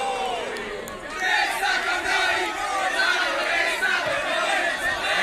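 A large crowd of football fans cheering and chanting for Gonzalo Higuaín, a loud, sustained roar of many voices rising after the first second and holding steady, distant and diffuse.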